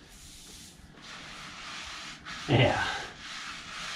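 Cat litter being spread over an oil slick on a shop floor during an IH 2+2 transmission teardown, a short gritty hiss and scrape that swells briefly, with a single spoken word just before.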